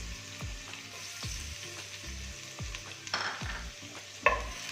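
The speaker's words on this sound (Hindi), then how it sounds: "4 टेबल स्पून और 1 टेबल स्पून इसमें लहसुन डालेंगे चॉप किया हुआ।" Chopped garlic sizzles softly in oil in a pan for chicken lasagna, with a spoon stirring and scraping in a steady rhythm and a louder clink near the end.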